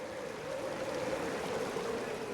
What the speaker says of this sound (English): He's just been wading through the floodwaters.